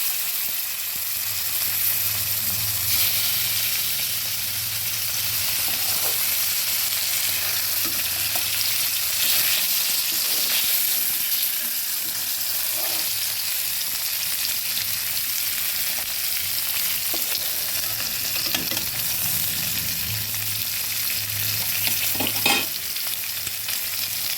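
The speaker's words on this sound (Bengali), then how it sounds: "অন্যগুলো ভাজতে দিয়ে দিচ্ছি" Pieces of silver carp fish frying in hot oil, a steady close sizzle running throughout with occasional soft clicks from the pan, no voices.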